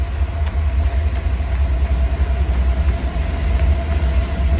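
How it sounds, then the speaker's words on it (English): A train passing close by with a steady, loud low rumble of rail cars, a faint sustained tone riding over it, continuous for the whole stretch with no voices. "we do have a train coming"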